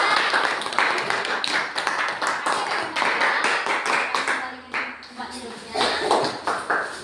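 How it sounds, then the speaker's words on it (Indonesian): Elementary students clapping in a classroom after a group presentation, uneven bursts of hand claps that rise and dip over several seconds, with voices heard among them. "Tepuk tangan untuk mereka."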